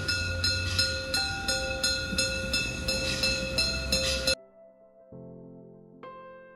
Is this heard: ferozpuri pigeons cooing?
no